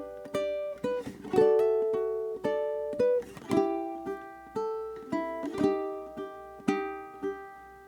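A solo ukulele plays the first two measures of a song at an even tempo, with plucked chords and single notes ringing out close and clear, each attack decaying before the next.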